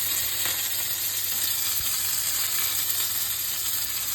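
Green chilies frying in hot oil for upma, a dense continuous sizzle that stays close and even throughout, with no voices over it.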